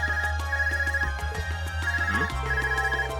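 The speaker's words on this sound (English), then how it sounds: "Is that your Arcus ringing?" An in-game Arcus communication device from Trails of Cold Steel rings with a steady electronic ringtone, repeating rhythmic tones over a background music bed.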